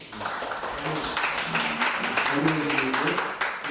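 A seminar audience at a history forum on unification policy claps together in a dense, continuous patter of many hands, moderately loud and sustained throughout, with a voice faintly mixed in.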